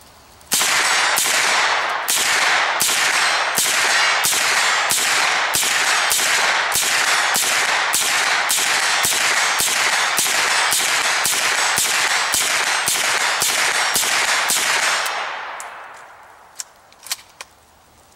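A semi-automatic MP5 loaded from an AC-Unity magazine fires a long, steady string of loud, evenly spaced shots at close range, roughly two per second. The shooting stops abruptly and a few scattered clicks and clatters follow.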